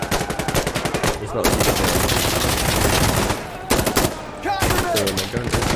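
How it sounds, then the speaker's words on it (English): Rapid automatic gunfire from a weapon in the video game Insurgency Sandstorm crackles loudly in several bursts with short pauses between them, and a voice talks briefly over it. "So my gun is making sounds now"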